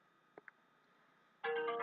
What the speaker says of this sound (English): my phone went off again